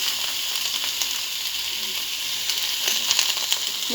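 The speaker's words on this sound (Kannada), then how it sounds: "ಇದನ್ನು 3 ಹಸಿಮೆಣಸಿನಕಾಯಿ ತೊಗೊಂಡಿದ್ದೀನಲ್ಲ, ಇದನ್ನು ಹುರ್ಕೊಳ್ತೀನಿ" Three green chillies fry in hot oil in a pan, giving a steady close sizzle with occasional sharper crackles and a few light stirring knocks toward the end.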